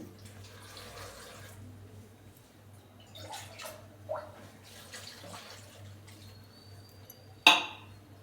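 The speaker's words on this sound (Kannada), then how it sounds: "ಸ್ವಲ್ಪ ನೀರು ಹಾಕ್ತಾಯಿದ್ದೀನಿ" Water is poured into a cooking pot holding tomatoes, green chillies, onion and garlic, a soft splashing trickle over a steady low hum, with a few light clinks and a sharp metallic knock near the end.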